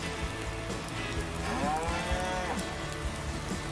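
Cows moo in a drawn-out, rising and falling call outdoors in rainy weather on a grassy pasture, with steady rain patter and background noise throughout.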